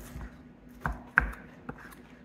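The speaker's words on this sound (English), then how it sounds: "So I'm chopping the chicken up into smaller chunks" Knife chopping a cooked rotisserie chicken into bite-size chunks on a cutting board: a few soft, irregular knocks, fairly quiet and close, with no talk.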